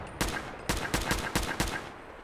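Gunfire in the video game Fallout, five quick, fairly loud bursts of shots in an irregular rhythm, heard alone with no talk.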